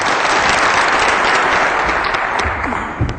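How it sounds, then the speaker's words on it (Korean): A class or congregation gathered for a theology lesson bursts into loud, dense applause. The clapping holds steady for about three seconds, then tapers slightly at the end. "네, 박수 한번 해주세요."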